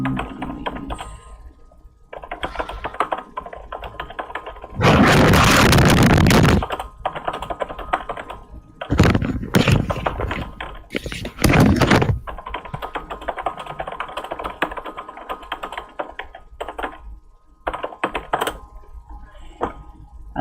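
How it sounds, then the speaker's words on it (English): Mechanical keyboard typing rattles steadily and close for twenty seconds, with dense clacking keystrokes and a few louder bursts of heavier noise breaking in. "I love mechanical keyboards, but they are noisy as hell."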